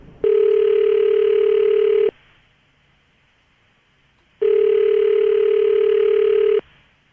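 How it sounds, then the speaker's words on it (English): Telephone ringback tone from a call being placed, two long steady beeps of about two seconds each, separated by a pause of similar length, clear and up close with no voices. "Dial the phone right now."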